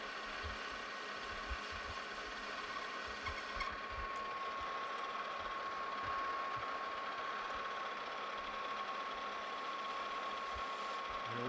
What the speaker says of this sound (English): Put our threading tool in there, and again we'll come in here and chamfer these edges.